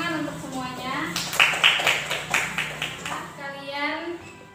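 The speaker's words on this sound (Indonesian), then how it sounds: "Tepuk tangan untuk semuanya." A classroom of children claps together in a quick burst of rhythmic handclaps lasting a couple of seconds, mixed with children's voices before and after.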